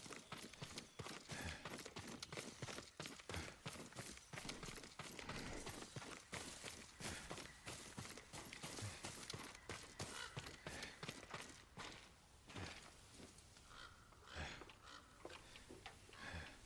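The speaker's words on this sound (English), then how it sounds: "Yuriko's horse." Yuriko's horse in Ghost of Tsushima, a rapid continuous clip-clop of hooves at a gallop, close and steady throughout, easing slightly toward the end.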